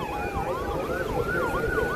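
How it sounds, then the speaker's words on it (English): An ambulance siren wails steadily on a street, rising and falling in repeated sweeps over a low traffic rumble. The sound is fairly loud and close, and no one is speaking. "Here comes an ambulance."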